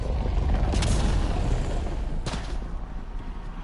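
Sniper rifle fire in Mass Effect Andromeda over a loud, booming combat backdrop, with two sharp shots about one and a half seconds apart cutting through the rumble.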